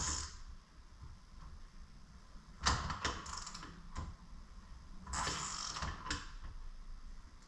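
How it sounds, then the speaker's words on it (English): Ratchet and socket turning a bolt on the load-levelling rear shocks of a Dodge Durango, giving short bursts of clicking pawl ratcheting up close, separated by quiet pauses, with no talk. "we put the socket in there first and then the ratchet on top"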